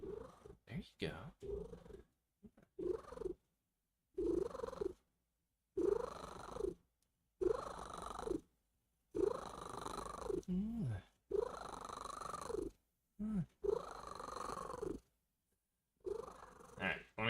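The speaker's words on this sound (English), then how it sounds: "If I can get him to start purring, he gets really loud" A male cat purrs loudly and close up, in a steady rhythm of rumbling bursts with each breath and short quiet gaps between them.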